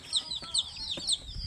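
Pet chickens cluck and chirp in repeated short, high calls, close by and moderately loud, with a few soft knocks in between.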